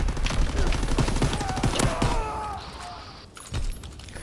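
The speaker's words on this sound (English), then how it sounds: "Enemy mortar fire incoming." Enemy mortar fire lands in a multiplayer shooter video game, a rapid series of loud booming blasts and thuds crowding together, followed by a quieter lull and a final thump.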